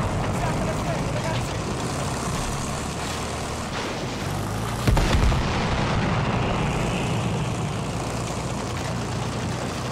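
Enemy warplane roaring through a Battlefield 1 match amid booming battle noise, with a sharp blast near the middle and voices talking over the constant din.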